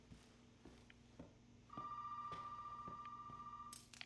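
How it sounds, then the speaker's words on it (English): A telephone rings in the video game Resident Evil 7, a long, steady electronic bell tone that sustains for about two seconds over quiet ambience punctuated by soft, regular footsteps. "Okay, phone's ringing again."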